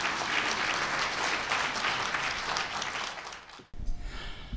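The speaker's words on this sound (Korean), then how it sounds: "박수로 환영해 주시기 바랍니다." Sustained applause from a seated audience welcoming a guest lecturer at a Korean-community business convention in Tokyo, a full, even crowd clapping that cuts off abruptly, followed by a brief burst of room noise.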